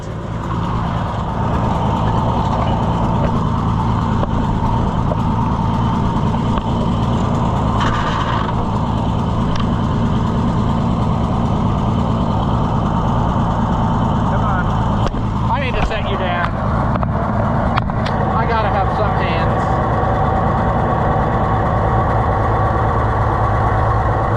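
An old junkyard Super 77 tractor engine runs steadily while being driven, a loud, continuous low rumble with a few brief rattles and clunks partway through.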